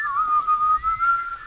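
A Sims character whistles in The Sims 4, a single clear, steady whistled tune held for about a second and a half with slight wavering pitch, alone over faint background.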